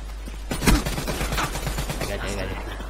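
Gunfire in the video game Call of Duty Black Ops 3, a close burst of rapid shots starting early and running on for a couple of seconds, mixed with other game sounds.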